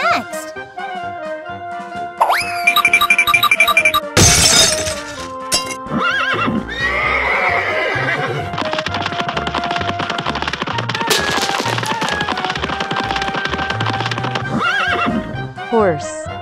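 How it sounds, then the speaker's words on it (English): A horse whinnies amid busy, layered music and playful sound effects, with bright jingles and a rapid rattling burst nearby. "Horse."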